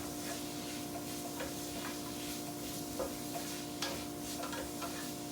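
Paprika being stirred into hot fat in a frying pan, a soft steady sizzle with faint scraping strokes and occasional light taps of the utensil against the pan.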